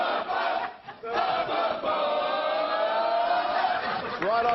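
The Fanatics, an Australian sports cheer squad, chanting in unison on a television show, a loud, sustained crowd chant that holds steady throughout.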